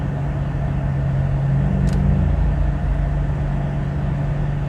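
A 2020 Mercedes-AMG GLS 580 V8 in sport mode gives a steady, loud engine drone with a strong low hum throughout, plus a brief higher whoosh midway.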